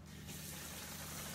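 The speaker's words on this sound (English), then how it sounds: "So I'm just grabbing some water here." Tap water runs steadily into a container in a home kitchen during cooking, a soft continuous gush at low volume with no voices.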